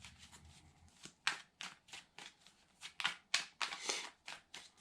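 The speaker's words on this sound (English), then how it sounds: "One more shuffle." A deck of tarot cards shuffled in repeated riffles and bridges, about a dozen crisp papery bursts of flutter and snap, close and fairly quiet, with no talking.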